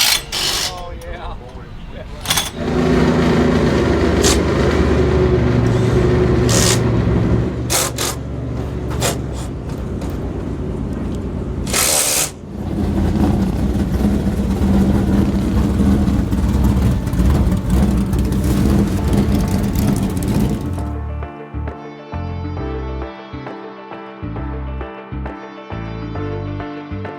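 Late model race cars of the MARS Series rolling out for a heat at the Broadway Bullring, loud engines droning and revving close by with bursts of acceleration, then fading to a lower idle near the end.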